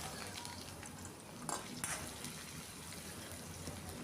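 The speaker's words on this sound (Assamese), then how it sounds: "এতিয়া ইয়াতে দি দিছোঁ পিঁয়াজকেইটা মিহিকৈ কাটি।" Finely chopped onions fry in a pan with whole garam masala, cardamom, cinnamon and cloves: a soft, continuous sizzle with a few brief stirring scrapes, faint and without talk.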